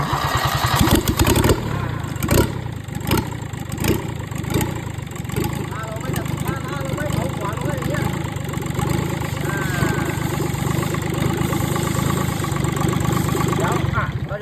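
A Kubota D850 three-cylinder diesel engine, 18 horsepower, driving a water pump, idles with a steady, clattering rumble, close and loud throughout, with a few sharper knocks near the start.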